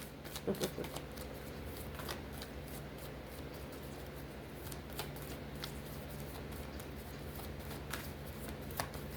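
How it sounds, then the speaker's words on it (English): Oracle cards being shuffled and pulled from a deck make soft, close riffles and quick flicks that repeat steadily in a quiet room. "Let's pull a couple more oracles and then we're going to clarify with tarot."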